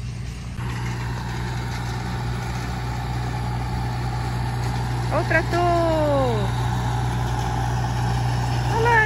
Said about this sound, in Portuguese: Olha o trator, lá vem ele.